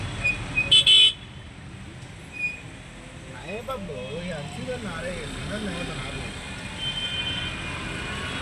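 Busy daytime city traffic with a brief burst of car horn honking near the start, followed by a steady low vehicle rumble and a voice talking over it.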